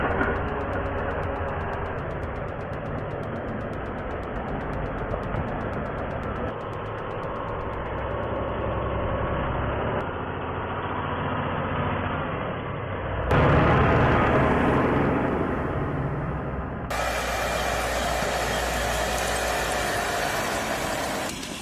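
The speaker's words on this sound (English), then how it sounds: "the LKT-81 Turbo keeps dragging oversized timber through mud, slopes, and unstable ground" LKT-81 Turbo skidder dragging oversized timber through mud and slopes in harsh forest terrain, its heavy diesel engine droning steadily and loud throughout, with a brief surge and harsher roar partway through, no voices.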